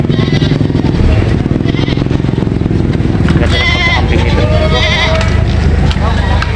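Goats bleat repeatedly at a busy livestock market, loud and close, over a constant engine drone and crowd noise.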